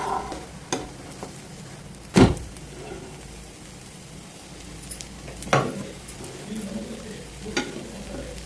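An omelette cooks in a pan with a soft, continuous frying hiss, punctuated by a few sharp utensil knocks and scrapes against the pan, and no one speaking.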